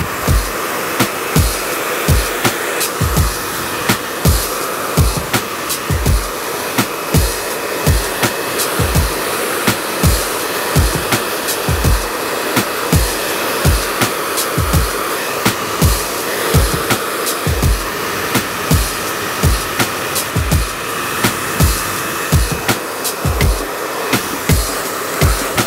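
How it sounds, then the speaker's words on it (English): A hair dryer blows steadily on mid-length hair while a brush pulls sections under tension. The loud, constant airflow has rhythmic low pulses running all the way through, with no talking. "Blow drying is about product, tension,"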